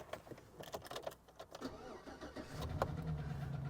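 Used truck with 178,000 miles and a bad lower-end knock at a public auto auction cranks and fires up, a rough engine settling into a steady low idle, heard fairly close with background noise.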